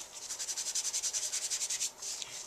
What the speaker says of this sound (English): you're going to go ahead and just rub on top of the embossed part so that you get a beautiful vintage look to this.